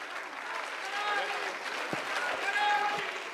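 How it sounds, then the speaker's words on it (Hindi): Steady applause from a crowd fills the whole stretch, a dense patter of many hands with voices mixed in underneath. "एक बार जोरदार तालियों से उनका स्वागत करेंगे"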